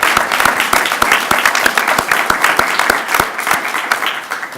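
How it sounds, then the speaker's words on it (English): Audience applause for the 2018 Ramsey medalist at an award presentation: dense, steady clapping from a crowd of many hands, loud and sustained throughout with individual sharp claps standing out nearby. "Let's give him a round of applause."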